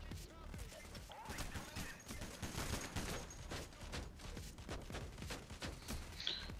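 Rapid gunfire from Payday: The Heist, a dense continuous barrage of shots and impacts running throughout, with game voices mixed in beneath the firing.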